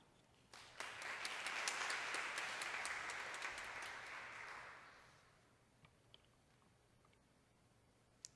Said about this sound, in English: would you give our first speaker a warm applause?